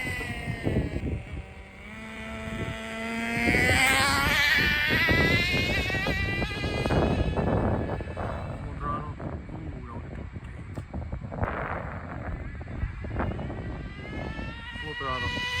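A Traxxas Nitro Sport .15 nitro RC car screams past on a speed run, its small engine whining and rising in pitch as it revs, then fading and sputtering while a voice talks over it.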